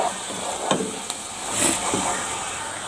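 Onions and garlic frying in a pan for koshari sauce, stirred with a spoon: a steady soft sizzle with a few light scraping and tapping strokes, close and fairly quiet.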